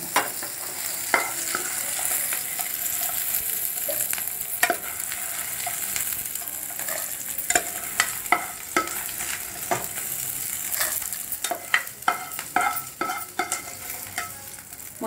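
Ingredients for a tindora and onion dish fry in a pan with a constant sizzle, punctuated by frequent scraping and clicking stirs of a spatula over about fifteen seconds, without talk.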